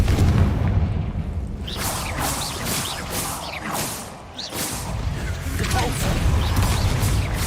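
Confringo blasting spell in the Hogwarts Legacy video game, a sequence of repeated booming explosive blasts with crackling debris, loud and close, mixed with game noise and a voice talking over it.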